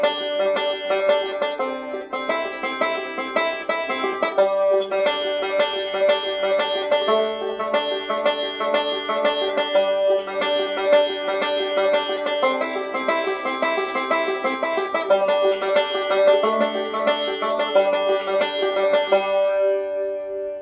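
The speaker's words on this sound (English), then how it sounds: "So let's just start with the 2-measure backup rolls." A banjo plays two-measure bluegrass backup rolls in G, with a steady, bright stream of picked notes continuing alone and at an even loudness throughout.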